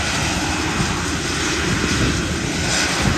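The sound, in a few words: RAF plane taxiing at Gibraltar Airport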